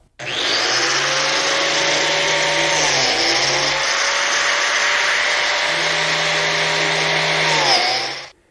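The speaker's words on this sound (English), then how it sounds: "it's very simple to line up the indicator mark on the biscuit joiner, plunge it in and take the cut" A biscuit joiner's motor whines steadily as it plunge-cuts a slot in a wooden face-frame workpiece, with its pitch dipping briefly under load partway through and again near the end before it shuts off.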